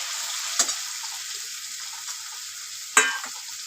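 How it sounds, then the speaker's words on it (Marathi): Potatoes tossed into a pan of fried onion and tomato sizzle steadily at moderate level, with two sharp stirring scrapes of the spatula standing out early and late. "आपण त्यात बटाटे टाकणार. बटाट्याला पण थोडंसं परतून घेणार."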